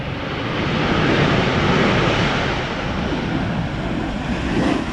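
A jet airliner touching down at Schiphol airport, a steady broad roar of engine and rushing air that holds loud and even throughout with no speech.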